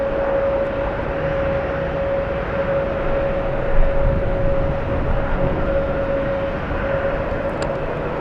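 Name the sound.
Boeing Dreamliner airplane flying overhead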